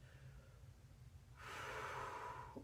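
During a core and upper-body towel exercise, a person takes a deep breath: a faint, low inhale, then a louder, breathy exhale close to the microphone.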